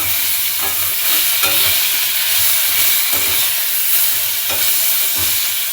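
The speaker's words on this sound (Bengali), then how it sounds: "একটু লাল করে আমি তরকারির আলুটা ভেজে নেব।" Potatoes for a curry fry in a pan with a steady, loud sizzle and hiss, broken by soft scraping stirs every second or so, no voices.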